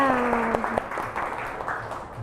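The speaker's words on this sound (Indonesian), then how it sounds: "Tepuk tangan semuanya." Applause from a school class during an Indonesian-language lesson, a steady patter of many small hands clapping together, fairly close, with a brief early rhythmic count-in and a voice or tone over the start.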